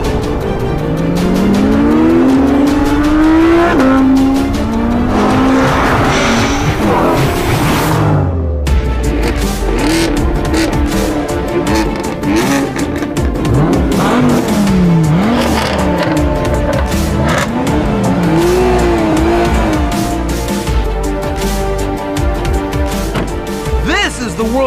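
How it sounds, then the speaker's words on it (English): McLaren 570S and Audi R8 V10 Plus drag racing: loud engines roar and rise through gear changes, with tire squeal, a sharp cut around midway, then continued revving under a speaking voice. "There's the impressively powerful and ridiculously light McLaren 570S. And here's the Teutonic stud, the Audi R8 V10 Plus."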